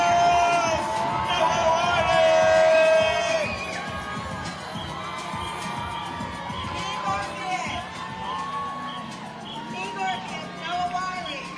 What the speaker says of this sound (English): The crowds are excited to receive him here at Gallier Hall.